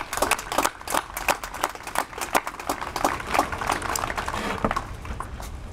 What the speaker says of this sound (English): let's have a big round of applause for all the partners that got us today